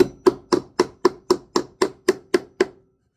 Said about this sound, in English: it doesn't take much hammering, and it's there